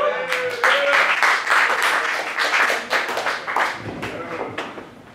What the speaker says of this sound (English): How about a big, big round of applause for Jesse Jarvis